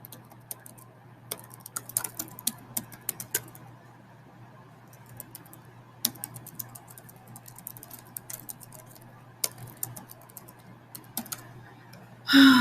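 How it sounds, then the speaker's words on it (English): Fast typing on a computer keyboard comes as quick, light clicks in irregular bursts separated by short pauses, close and fairly quiet over a faint steady hum, with a brief louder noise at the very end. "I'm trying to type fast."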